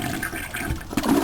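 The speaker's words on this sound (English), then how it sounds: "Can flush the toilet." A toilet flushes in the horror shooter game Cultic, a short watery rush about a second long that swells at the end, heard up close and alone.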